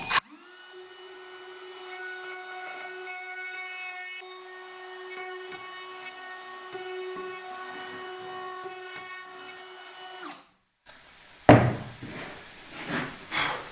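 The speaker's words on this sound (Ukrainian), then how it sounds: "І фрезер. Фрезерую місце." A wood router spins up and mills an 8 mm deep recess in a workpiece held in a jig, giving a loud, steady whine that runs for about ten seconds, then cuts off and leaves brief clatter and handling noise.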